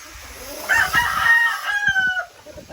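A rooster crows once, a full drawn-out call rising and holding before trailing off, close and fairly loud, with no talk over it.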